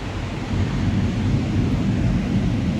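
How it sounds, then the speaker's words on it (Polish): Deep, continuous rumble of thunder from a storm rolling back in over a flooded street, with wind and rain noise filling the low end throughout. "Ale widzę, że burza z powrotem wraca."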